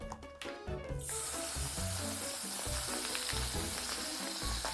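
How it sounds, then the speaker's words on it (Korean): Jjajang sauce frying in a little pork belly lard, with a broad steady sizzle that surges in after a brief musical opening and holds close and even to the end, no voices. "약간의 기름에다가 짜장을 볶아 보도록 하겠습니다"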